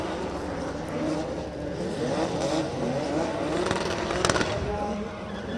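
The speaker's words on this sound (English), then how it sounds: "Rostislav Worochowski absolutely fires in that Toyota 2JZ GT86" Toyota GT86 drift car fitted with a 2JZ engine, battling at an international drift championship in Oman, roars steadily through the whole stretch with a sharp crackle near the end, while commentators talk over it.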